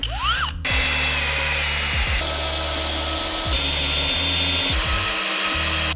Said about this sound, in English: So let's just straight up drill the screws in there.